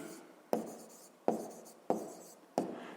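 Pen on paper writes out a math solution, four sharp taps a little over half a second apart, each followed by a brief scratchy stroke, close and alone.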